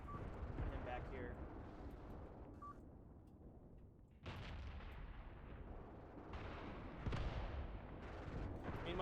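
Artillery fire in the war game Graviteam Tactics booms as dull, broad blasts and rumbling that swell and fade over a continuous low battle din.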